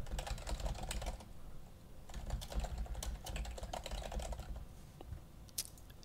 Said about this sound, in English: all I have to do is enter in email addresses of people I want to share the folder with